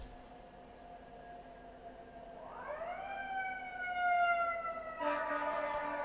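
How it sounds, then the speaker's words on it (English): An emergency siren wails outside, a faint distant rising tone that climbs and then holds a steady pitch, heard alone against a quiet room. "Sorry if you can hear the siren."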